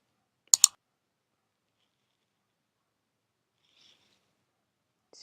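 Two quick, crisp computer mouse clicks close together on a submit button, then near silence.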